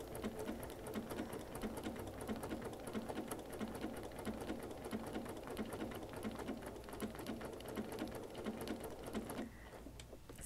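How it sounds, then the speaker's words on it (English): A sewing machine runs steadily, stitching back and forth over marked lines on a Shamrock Ridge quilt block, its rapid mechanical chatter continuous and close, easing slightly just before the end. "we would just stitch right over those lines. And so you can see, it basically stitches back and forth over itself"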